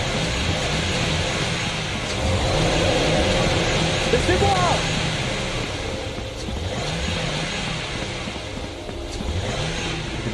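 Cars in a horror video game rev and drive past, a steady engine drone with passing swells under frequent French talk.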